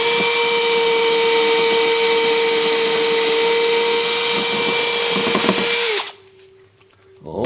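A drill bores a pocket hole through a Massca jig with the shop vac off, a steady loud whine with strong harmonics lasting about six seconds, then stopping abruptly into a quiet room hum.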